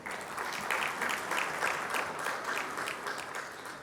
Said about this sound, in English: A big round of applause for speakers,